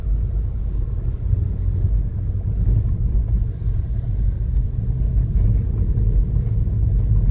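A stationary vehicle's engine is raced in place on a mountain road tour, giving a steady, loud low rumble that holds throughout with slight rises in pitch and no talk over it.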